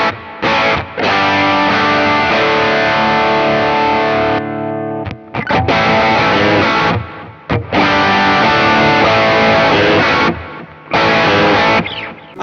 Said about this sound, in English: that's the distortion side of the King of Tone